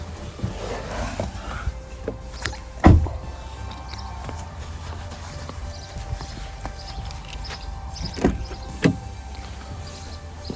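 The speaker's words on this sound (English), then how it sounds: "I can open the windows for one" Power windows on a 2016 Fiat Panda salvage rebuild whir as they move, with a few sharp clicks and knocks from the door, heard close up inside the car with no one talking.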